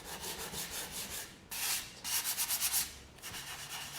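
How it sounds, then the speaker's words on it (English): Hand-sanding a beeswax-coated wooden board, rhythmic close rubbing strokes in bursts with brief pauses between passes. "And I'm going to just be sanding off."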